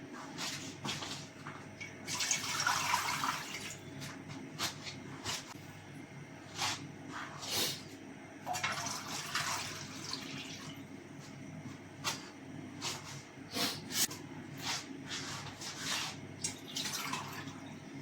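Water poured into a steamer pot set up for steaming creamy leche flan, heard as irregular splashing and trickling bursts with faint clinks of kitchenware, moderately close, with no talking.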